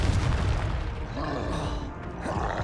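Confringo fire spell blast in Hogwarts Legacy, a loud, dense, booming explosion with rumbling roar and crackle that stays full and sustained throughout, with a faint grunt-like creature sound mixed in.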